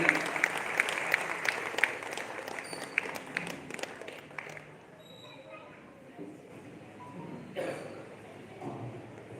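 An audience at a comedy poetry gathering in a Jain hall claps to welcome the poet Hira Mani Vaishnav. A lively burst of clapping fades away after a few seconds, leaving quieter room sounds and a speaking voice.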